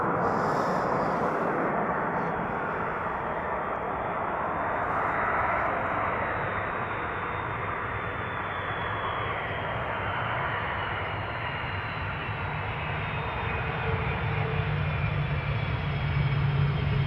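An airplane arriving at Amsterdam Schiphol Airport, a loud, steady broadband engine roar that holds throughout with a slowly shifting tone as the aircraft passes close by.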